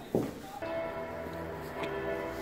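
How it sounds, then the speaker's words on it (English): A church bell in Beverley strikes the hour and rings out with long, resonant humming tones that sustain and overlap, heard from a moderate distance. "So the bells are tolling for 1 o'clock."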